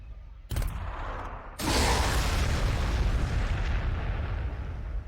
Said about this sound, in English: we'll just keep throwing frag back here